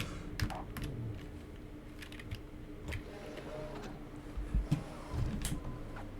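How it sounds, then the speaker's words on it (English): A computer keyboard clatters under irregular bursts of hard key presses during a Cyberpunk 2077 driving session, with in-game engine and road noise running steadily underneath. "I don't know if you heard my keyboard"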